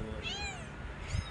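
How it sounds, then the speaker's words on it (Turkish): A cat meows twice, thin and rising then falling, at moderate distance over a steady noisy background, separated by a short pause. "Miyavlıyor, o da"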